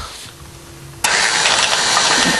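A car engine cranks and fires up abruptly, jumping from a quiet hum to a loud, steady roar that continues close by.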